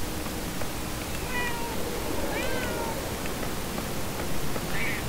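A cat in the video game Murdered: Soul Suspect meows several times, short and fairly faint, over a dense, steady background hiss of game ambience.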